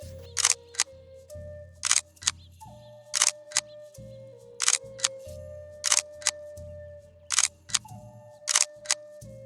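Camera shutter clicks at an artist's workshop museum in Bishkek, about seven sharp bright clicks spaced roughly a second or more apart over a steady low hum, with no speech.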